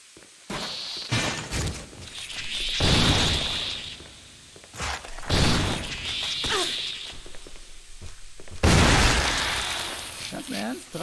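Gunfire at creatures in the Resident Evil video game on Switch, several heavy, booming shots with crashing impacts in bursts, interleaved with quieter in-game noise.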